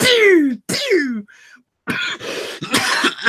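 Harsh coughing bursts from a person acting out characters choking and gagging on smoke during a tabletop fantasy game session, several close, loud hacking spurts separated by short gaps, with a breathy gasp in the middle.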